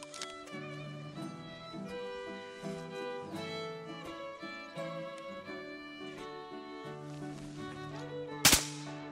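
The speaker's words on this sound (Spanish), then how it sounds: "Pedro de un buen disparo descuelga el primero de la mañana que cae al agua" One sharp, sudden hunting gunshot cracks out near the end, bringing down a bird into water, loud and brief, over a quiet background of tonal music.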